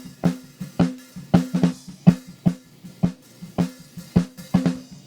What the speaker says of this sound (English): So now, when we come from this snare that sounds like this